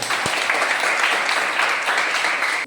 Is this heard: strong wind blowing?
no